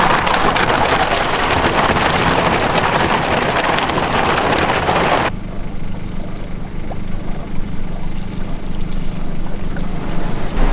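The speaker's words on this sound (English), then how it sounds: "my icebreaker is going right through it" A small boat pushes through ice only a sixteenth of an inch thick on Raystown Lake, giving a loud continuous crackling, rushing hiss that drops suddenly to a quieter engine hum with faint ticks.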